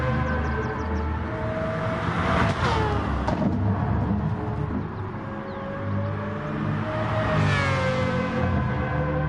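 Several racing cars in a sim racing game circle the Spa-Francorchamps circuit, with loud, sustained engine drones that rise and fall in pitch as they pass and shift gears, one car sweeping by close near the end.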